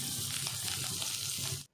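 Mashed boiled potatoes with turmeric, red chilli powder and ground coriander are being sautéed in a pan, giving a steady close sizzle with light stirring scrapes before the sound cuts off abruptly.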